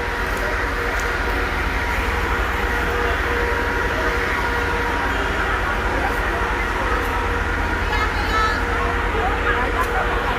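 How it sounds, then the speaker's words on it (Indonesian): Ambience at Pasar Turi train station in Surabaya: a constant rumbling wash of train and platform noise with distant crowd babble and occasional faint squeals, steady throughout with no clear pauses. "Dan ini adalah view dari stasiun Pasar Turi Surabaya."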